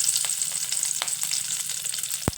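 Curry leaves, cumin and mustard seeds crackle in hot oil, giving a steady, close sizzle with fine spitting pops. A couple of sharp clicks come right at the end.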